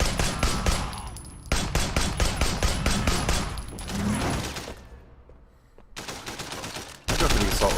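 An assault rifle fires in the Sleeping Dogs video game in rapid automatic bursts. There are dense, loud strings of shots, a quieter stretch with a lone shot, and then another heavy burst.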